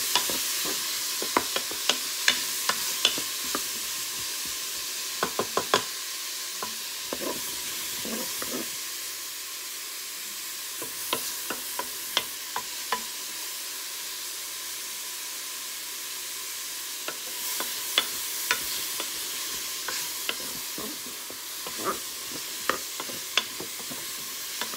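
Seafood and leeks sauté in a pan, a steady low sizzle running throughout with frequent sharp scrapes and clicks of stirring scattered across the whole stretch, close and moderately loud, with no voices.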